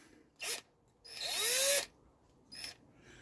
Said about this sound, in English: I'm going to put this back in the drill get some valve grinding paste